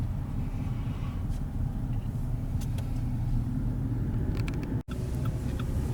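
A modern fire department truck idles as its engine warms up outdoors at a state park, a steady low rumble running unbroken for several seconds with a brief dropout near the end.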